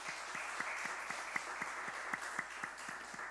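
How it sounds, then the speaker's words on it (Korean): A church congregation claps at a Sunday service, a faint, distant round of steady rhythmic applause at an even pace. "우리 하나님께 영광의 박수 올려드립시다."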